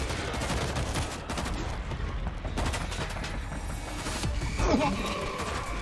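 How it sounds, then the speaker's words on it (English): A turret machine gun fires in World War Z, continuous dense gunfire mixed with other battle noise and voices talking over it. "Machine gun is ready!"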